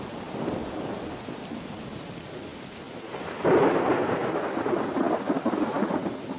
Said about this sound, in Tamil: தடிமனான இடி முழக்கம் கொண்ட மேகங்கள் உருளுகின்றன, விரிந்த பரப்பை மூடுகின்றன.